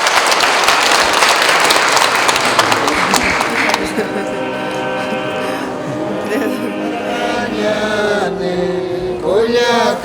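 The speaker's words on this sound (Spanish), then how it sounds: "Un aplauso para los matrimonios." A congregation applauds married couples at a church gathering, a loud, dense burst of clapping that fades after about four seconds into singing and voices.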